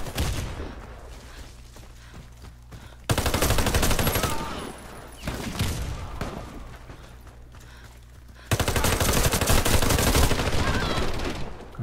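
Gunfire in the video game Warface, heard as several sustained bursts of rapid shots that come in loud waves separated by quieter stretches of ambient game noise.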